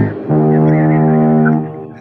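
A single loud, blaring horn blast holds a steady buzzing tone for about a second and a half before fading out.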